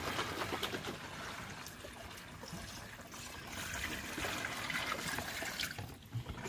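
Water is poured from a bucket while a pet is being bathed. The splashing and trickling flow is continuous and fairly close, with no talk over it.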